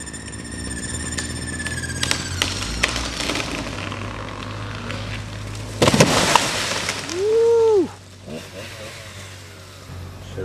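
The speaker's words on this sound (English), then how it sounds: "pay attention to the popping sounds as the hinge begins to go" A tree being felled by a tree service, with scattered sharp pops and cracks from the hinge wood, a loud burst of cracking and crashing midway, and a rising engine-like whine and mechanical background throughout.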